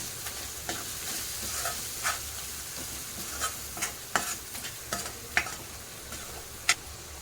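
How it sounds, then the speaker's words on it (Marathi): Spice masala sautéing in a pan for a potato curry, a soft background sizzle punctuated by irregular sharp spatula scrapes and taps against the pan, quiet and close, no talking. "चांगलं असं परतून घ्यायचं एकजीव करायचं सर्व"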